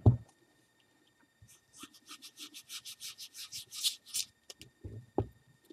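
An ink blending tool rubbed across a plain sheet of paper, a quiet close scratchy swishing in about a dozen even back-and-forth strokes, framed by a few soft handling knocks.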